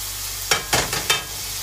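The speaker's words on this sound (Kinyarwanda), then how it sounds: "Nimara gushyiramo urunyanya ndabikoroga neza, ndabivanga." Tomatoes get stirred and mixed in a hot pan, four quick scraping strokes of a utensil over a continuous background hiss, close and fairly loud, with no voices.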